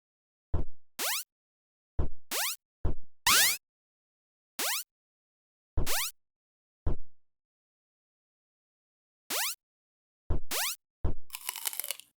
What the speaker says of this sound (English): we can see the life sound and the apple both play their different sound effects